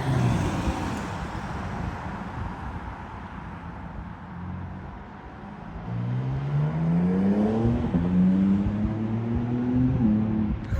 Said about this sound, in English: Okay, so the cars are leaving now.